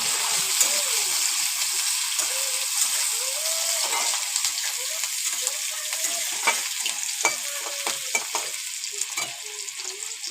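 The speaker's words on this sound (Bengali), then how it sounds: "পেঁয়াজটা একটু লাল লাল করে ভেজে নিই।" Onions sizzle in hot oil with panch phoron spice seeds, a steady close crackle and hiss with occasional stirring scrapes throughout.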